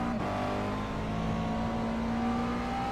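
A McLaren MP4-12C race car's engine drones steadily in iRacing at VIR, a sustained close tonal whine holding pitch as the car laps, with a brief shift near the start.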